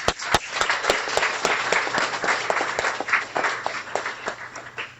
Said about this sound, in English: I'd like to acknowledge them with applause